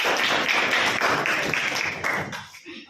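A group of people clap their hands in a dense, lively round of applause that fades out near the end, close and fairly loud.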